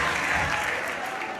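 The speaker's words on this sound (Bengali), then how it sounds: "সিফাতের জন্য হাততালি গাইজ" A roomful of people clapping for a college student at a young magician's show, a dense burst of applause that tapers slightly over a second and a half.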